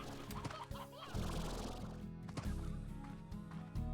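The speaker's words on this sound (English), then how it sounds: "I need to just get the rooster for Bob, right?" A rooster in the game Slime Rancher clucks a few times over a dense bed of in-game music and ambient sound, the calls moderately close but partly blended into the busy background.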